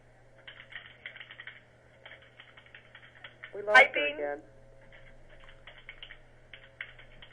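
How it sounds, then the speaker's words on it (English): Soft, scattered clicks of typing on a computer keyboard, coming in uneven bursts in the background during a meeting, while a voice briefly speaks in the middle. "I'm wondering if whoever's typing could not maybe type."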